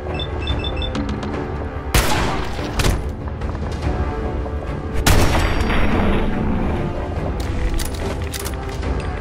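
Gunshots ring out in Fallout 4, several loud sharp booming reports spaced a few seconds apart over a rumbling in-game ambience, with no talking.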